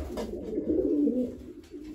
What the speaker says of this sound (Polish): jesteśmy w gołębniku gołębi lotowych, starych